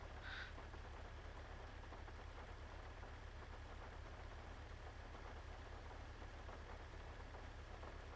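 Steady rain falls outdoors in the morning as an even, faint hiss across the whole stretch, over a constant low engine-like hum, with no voices.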